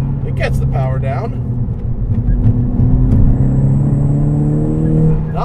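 Big-turbo Volkswagen MK6 GTI with a limited-slip differential pulling hard out of a corner in sport mode, a steady loud engine drone rising under the driver's continuous talk.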